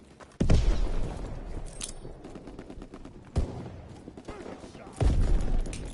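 Dual pistols firing in Call of Duty WW2, loud close shots near the start, middle and end, with a rattle of quicker bursts under them and some voice nearby.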